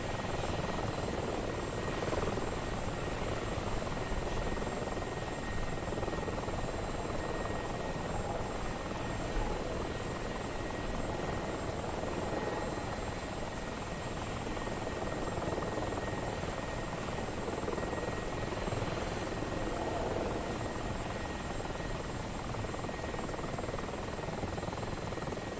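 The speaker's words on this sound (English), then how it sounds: "Looks like one of Team Santa's helicopters was flying in a no-fly zone" Helicopter flying in a Santa vs Grinch PvP video game match in Whoville, a continuous loud rotor and engine drone with steady thrumming, heard alone throughout.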